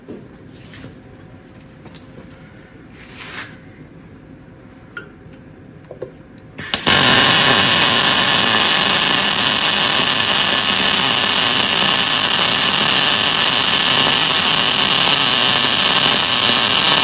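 A John Deere backhoe adapter being MIG welded out of position with an XCEL 255 PRO welder: a few quiet clicks and taps, then a sudden loud, steady crackling buzz that runs for about ten seconds.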